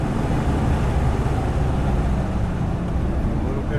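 A Porsche engine on a track as the driver lifts off the throttle, a steady loud broadband drone of engine and road noise that holds fairly constant, heard from inside the car.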